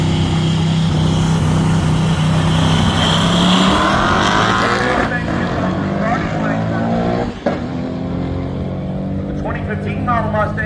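A 2015 Mustang roars down a drag strip at high speed, its loud sustained engine note rising and shifting as it races toward the finish line, with an announcer talking over the noise.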